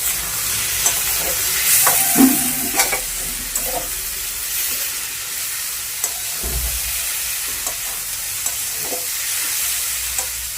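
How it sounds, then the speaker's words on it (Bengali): Dry chickpea ghugni frying in a pan while being stirred, with a steady low sizzle and scattered scraping clicks of a spatula against the pan, close and continuous. "অল্প অল্প করে একটু নেড়ে দেবো যেন বিক্রি না লেগে যায়"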